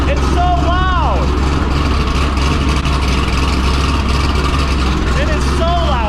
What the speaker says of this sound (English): let's go ahead, get the cold start going, the big cam, the blower